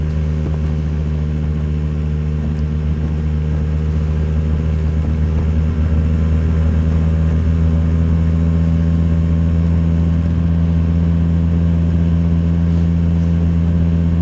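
A Lambretta GP125 scooter cruises along a road at an easy, steady pace, its engine a continuous loud drone with a constant low rumble and no clear revving.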